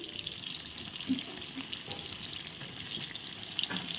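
Eggplant slices frying in a covered pan give a soft, steady sizzle with a few faint clicks, fairly quiet and uninterrupted by talk.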